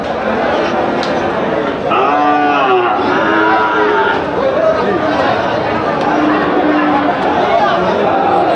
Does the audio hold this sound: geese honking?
no